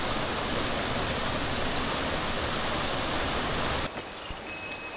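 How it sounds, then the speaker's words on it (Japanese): A large waterfall pours down into a mountain river in southern Hokkaido, making a loud, steady, close roar of rushing water for about four seconds before it abruptly drops away to a much quieter scene with faint high tones. "このすぐ上流に大きな滝が流れ落ちていた。"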